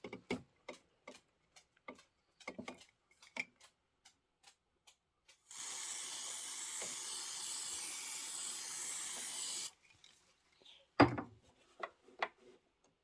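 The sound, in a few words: spray can spraying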